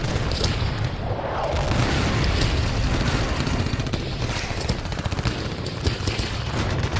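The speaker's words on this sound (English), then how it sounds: "Machine gun fire should keep them at bay." Sustained machine gun fire in the World War II strategy game Men of War, a dense unbroken clatter of rapid shots mixed with deeper booms of tank and artillery fire, loud and continuous without pause.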